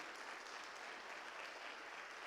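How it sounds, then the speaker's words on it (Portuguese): A church congregation applauds at a revival conference, a steady dense wash of many hands clapping at once, continuous and moderately distant, with no pauses. "Mais forte esse aplauso ao Rei."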